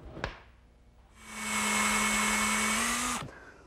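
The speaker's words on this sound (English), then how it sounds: "And I'll be ready to pre-drill for the screws." Power drill pre-drilling screw holes in wood for an outdoor garden table, a steady high whine of about two seconds after a sharp click, close and clear, ending abruptly.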